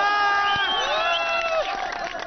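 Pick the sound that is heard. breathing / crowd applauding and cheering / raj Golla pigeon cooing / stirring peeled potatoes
crowd applauding and cheering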